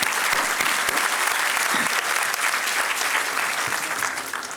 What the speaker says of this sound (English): a very, very big round of applause for all the parents who are here